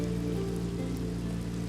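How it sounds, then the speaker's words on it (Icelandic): Rain showers fall steadily in rural Kenya, a dense, even hiss of drops on surfaces with a low constant rumble beneath, unbroken throughout. "Það búið að vera dembu veður, rigningaskúrir í allan morgun."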